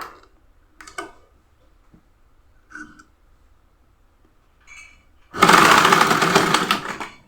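A sewing machine stitching a kurta top runs in one steady, loud, fast-whirring burst near the end, after a few quiet handling clicks and rustles.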